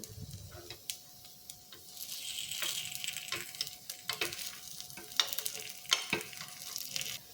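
Rava appam sizzling gently in an appam pan on medium flame, with scattered sharp taps and scrapes as a spoon turns each one over.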